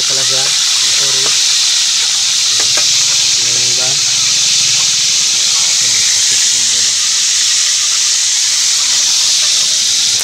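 Fish fry in hot oil with a loud, constant sizzle and hiss that fills the whole stretch, while people talk faintly underneath.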